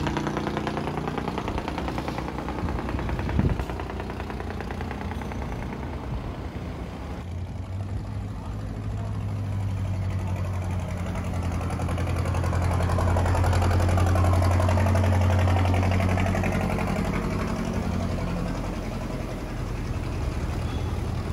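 A wooden ghe chấu cargo boat, running empty, chugs past with a steady mid-pitched engine drone that swells louder and closer through the middle before easing off, continuous and without talk.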